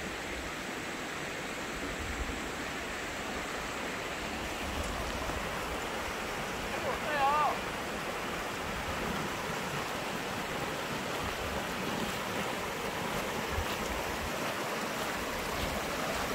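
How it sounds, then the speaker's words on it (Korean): A mountain stream babbles and flows past pine trees on an autumn outing, a steady, faint wash of running water with no break and no voices. "산개울 졸졸졸 흘러가는"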